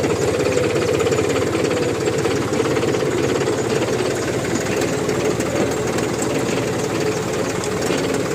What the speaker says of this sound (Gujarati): અમારું આ ટ્રેક્ટર છે 4 વ્હીલ ડ્રાઈવ